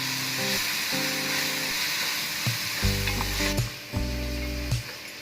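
Spices fry and are stirred in a pan for Gujarati khichdi, giving a steady, loud sizzle with repeated scraping strokes of a spoon against the pan, close by, without speech.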